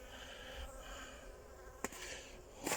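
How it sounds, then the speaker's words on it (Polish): Faint, continuous buzzing of honeybees close by at an apiary, a steady hum with a couple of brief sharp clicks. "O, tu pszczołki, pszczółki pobierają wodę"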